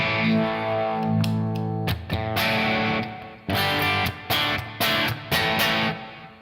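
An electric guitar plays through a small grab-and-go pedalboard into an amp with reverb switched on, giving distorted, effect-laden chords. Sustained notes are broken by sharp rhythmic stabs and short pauses, loud and alone with no talking.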